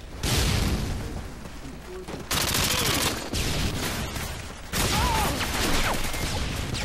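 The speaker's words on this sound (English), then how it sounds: "I just got sniped" Sniper rifle fire in an online Xbox shooter, heavy gunfire bursts filling the clip in loud broadband waves with sharp onsets near 2.3 and 4.7 seconds, layered with game ambience.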